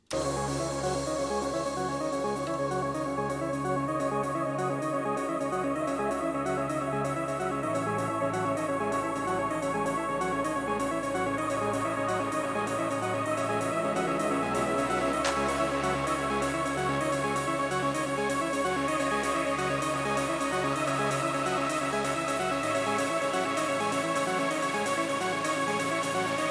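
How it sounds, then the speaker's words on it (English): A sustained techno track break with droning layered synths and shifting low bass notes, steady and loud, without a driving beat. "This is the, the, the break of the track."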